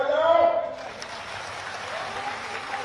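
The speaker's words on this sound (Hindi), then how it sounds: "पहले जोर से तालियां बजाओ।" A crowd at an election rally breaks into steady, loud applause just after a speaker's voice, and the clapping continues as an even wash to the end.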